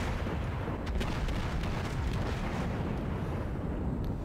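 Deep, continuous rumbling booms of battleship main guns in World of Warships aboard the Fuso, a dense, loud wash of low thunder with faint sharper cracks layered on top and no pauses.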